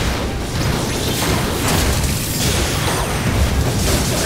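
Cannon fire in the video game Ni no Kuni 2: Revenant Kingdom, a dense, continuous wall of loud booms and crashing bursts that runs without pause for several seconds.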